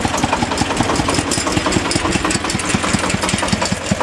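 A tractor engine pulling an SF 240 harrow across damp spring farmland, running loud and close with a steady, rapid knocking chug throughout.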